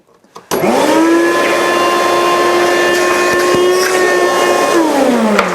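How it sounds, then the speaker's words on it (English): A small portable workshop dust collector switched on as a standalone dust vacuum spins up sharply after a brief click, then holds a loud, steady motor whine and airflow roar close by. "what if you want to use this just as a small dust vac or something like that?"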